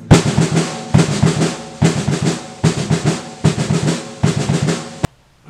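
Sticks and bass drum strike together in repeated single-stroke groups of four, six quick bursts in a steady rhythm, loud and close, then a sudden stop.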